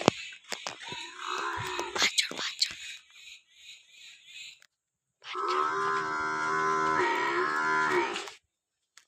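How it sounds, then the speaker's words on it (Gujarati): Domestic buffalo on a family farm lets out a long, loud, close moo lasting about three seconds, after a stretch of quieter mixed farmyard noise and voices. "આ જોઈ લો અમારી ભેંસું"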